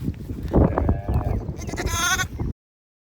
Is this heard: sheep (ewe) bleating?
yes